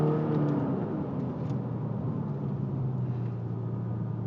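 An Audi A6 Allroad 3.0 TDI with an aftermarket sound generator accelerating in dynamic mode: a steady, low droning engine rumble heard from inside the cabin, fairly even in level.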